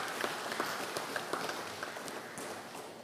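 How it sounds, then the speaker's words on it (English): Audience clapping at a concert in St John's Anglican Cathedral, a scattered round of applause from a crowd, reverberant and fairly faint, fading slightly toward the end. "So give yourself a big round of applause"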